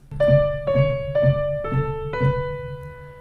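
A simple piano melody of five evenly spaced notes over a soft repeating low note, played alone and ringing with a clear, moderate tone.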